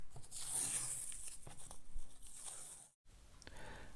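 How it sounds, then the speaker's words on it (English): Masking tape is peeled off watercolour paper after painting a fox in snow, a close, quiet, continuous tearing and crinkling rip with a brief pause before more peeling. "now we can take the tape off and see what we have"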